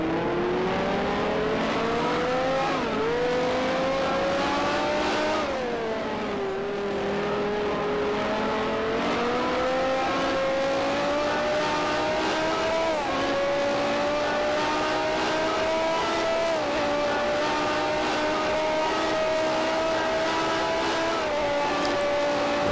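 A Brabham race car engine in Grand Prix Legends howls continuously and close, its pitch climbing steadily and dipping briefly at gear changes and corners, with no voices.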